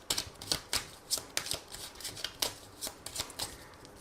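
Tarot cards being shuffled and cut, a run of crisp riffling bursts and soft slaps in an irregular rhythm, close and fairly quiet with no talking.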